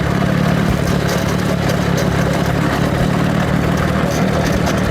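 A motorcycle engine runs loud and close, a rough, continuous rumble holding steady without clear revving, and no one speaks over it.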